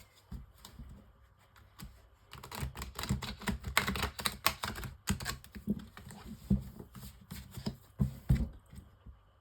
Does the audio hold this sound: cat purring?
no